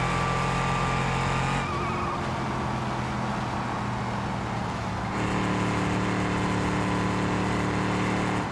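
A slightly modified car with a supercharger holds a loud, steady engine drone, its pitch shifting twice as the revs change, with no talk.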